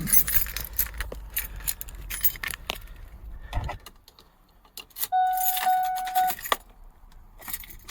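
Car keys for a 2001 Ford Expedition jangle and rattle up close, followed by a brief electronic chime-like tone, then a short pause and more clinking; no one speaks.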